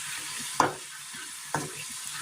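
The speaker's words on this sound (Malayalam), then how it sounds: "ഒരു സൈഡ് മൂത്ത് വരുമ്പോൾ ഒന്ന് ഇളക്കി കൊടുത്ത് ഒന്ന് ഫ്രൈ ആക്കിയെടുക്കാം" Raw jackfruit snack pieces frying in hot oil, a steady soft sizzle broken by two sharp scraping clinks of a stirring spoon, close and alone.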